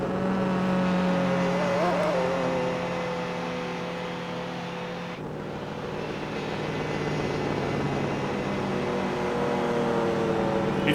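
Mercedes C9 race car engine in Gran Turismo 4 holding a steady, loud droning tone with a slight pitch wobble and a brief dip midway, continuous throughout with no talk.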